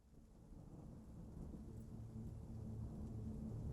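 Steady rain falls under a low rumble of thunder, a dense, continuous wash that swells slightly louder toward the end, heard soft and distant with no voices.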